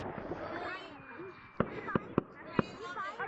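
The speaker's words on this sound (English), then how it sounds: "The fireworks, as you can see, they are actually really good" Video game fireworks pop in four sharp, loud bursts spaced under a second apart over a busy game soundscape, with faint background voices.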